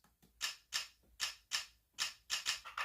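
A syncopated beat built from camera shutter samples: crisp, clicky snaps, about eight sharp hits in an uneven rhythm, close and dry with no voices.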